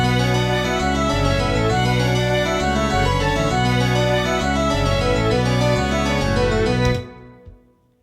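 A sustained string arrangement plays steadily with layered harmonies, then cuts off abruptly near the end, leaving a short fading tail.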